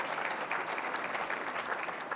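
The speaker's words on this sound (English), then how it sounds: "So please, a warm round of applause for the Senator, Ed Markey" An audience at a climate-focused gala gives a brief, steady round of applause, moderately distant, clapping continuously for a couple of seconds without speech.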